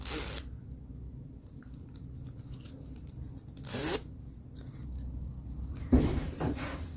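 A metal zipper for lining a crocheted purse is handled close up, giving brief rustling, clicking bursts near the start, in the middle and toward the end, with quiet pauses between them.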